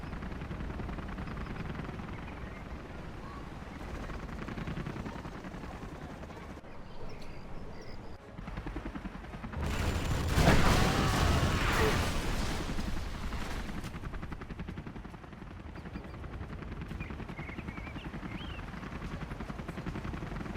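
Comanche helicopters in a Command & Conquer Generals style strategy game unleash rocket pods and guns, a loud dense burst of gunfire and blasts swelling mid-clip over a steady rotor drone and battle rumble.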